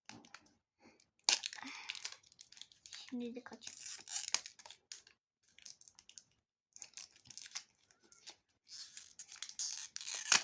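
A taped surprise toy package is torn and crinkled open in several bursts of ripping and crunching, close by, with voices talking in between.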